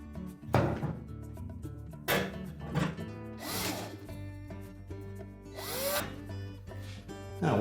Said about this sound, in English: lower it down into place, and then reinstall the screws